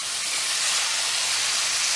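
Lemon juice hitting a hot pan of four-vegetable curry with aubergine, giving a loud, steady, hissing sizzle that holds without a break.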